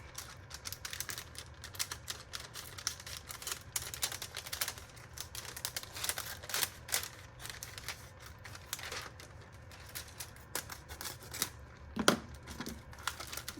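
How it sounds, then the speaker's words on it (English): Plastic shrink wrap crinkling and rustling as it is cut and wrapped around an item, a dense run of close crackles and snips with a louder crinkle near the end. "grab the shrink wrap. Hopefully it'll fit. Doesn't look like it is. Oh my gosh. I'm gonna have to cut this."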